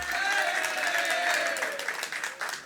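An audience at a Hindu religious discourse applauds, a dense continuous wash of clapping at moderate distance that fades slightly toward the end, with a voice ringing over it.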